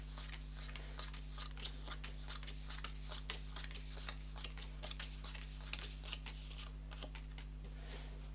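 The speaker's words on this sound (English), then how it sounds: "So the hazards can be all kinds of things, so we want to give that a shuffle." A deck of board game hazard cards being shuffled by hand, a quiet, rapid series of crisp riffling flicks repeating steadily, close and alone.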